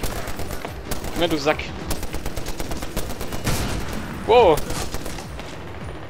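Sniper gunfire in Medal of Honor Warfighter, a rapid string of sharp close shots rattling through most of the stretch, with a voice cutting in briefly.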